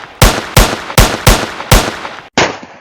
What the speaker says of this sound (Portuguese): Ó os tiros.